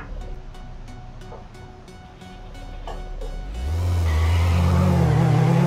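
Hyundai Veloster in the City Car Driving game pulls away hard, its engine rising from a ticking idle into a loud, sustained rev with a whining tire squeal, no talking.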